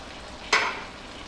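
Shrimp dropped into a pan of sautéing bottle gourd and ground pork, a sudden sharp sizzle that flares up and then fades into a softer crackle, close-miked with no talk.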